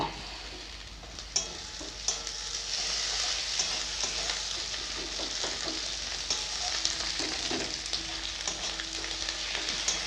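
Onion and ginger paste frying in a pan with green chillies, a continuous bright sizzle with occasional stirring clinks and scrapes, close and steady throughout without any speech.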